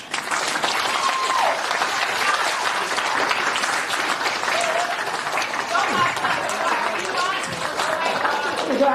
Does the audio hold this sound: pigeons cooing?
no